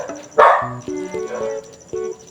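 A synthetic dog in a Minecraft-style crafting game barks a few times in quick succession, sharp and electronic-sounding, over a faint steady high tone, with no talking.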